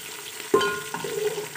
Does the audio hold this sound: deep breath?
no